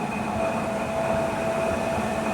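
A Monarch 10EE lathe spins its chuck at about 700 RPM, giving a steady, continuous mechanical whir with a faint tonal whine running evenly throughout, close and alone.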